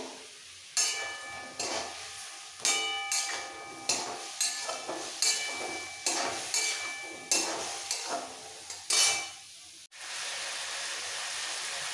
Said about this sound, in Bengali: এবার একটু কষাবো।